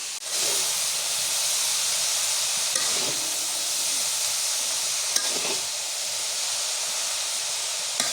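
Steady loud hiss of vegetable bhaji frying in a village kitchen with turmeric, chili powder and salt, a constant sizzle broken by a few faint stirring scrapes.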